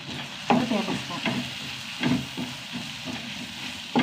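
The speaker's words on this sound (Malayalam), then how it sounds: "എല്ലാം കൂടി വഴറ്റുക." Spice powders, including coriander, asafoetida and sambar powder, are stirred and sautéed in a pan, a soft sizzle with irregular scraping strokes of a spoon, close and alone without talk.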